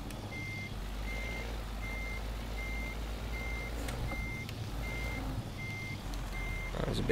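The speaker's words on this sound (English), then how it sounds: "And even like parking, listen to that rumble." Reversing beeps from a Volvo VNL truck in American Truck Simulator pulse steadily about nine times over a deep, continuous engine rumble, with no talking.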